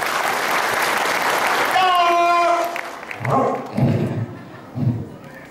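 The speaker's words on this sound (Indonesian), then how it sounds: "Tepuk tangan sekali lagi buat teman semuanya" Audience applause at an event in Bekasi, a burst of clapping in the first seconds that gives way to a dog-like yelp and voices.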